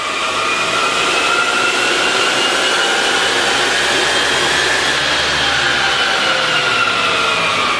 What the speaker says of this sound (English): Let's get this Saints Motorsports Tahoe back on the dyno and see what kind of power numbers we can put down to the ground.